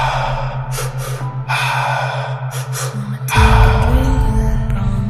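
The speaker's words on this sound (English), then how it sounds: "So let's just pick up the pace a little bit to our breathing." Quick, sharp breaths in and out during a guided breathing exercise, repeated in short bursts over a steady pulsing low hum, then a louder rush of breath near the end.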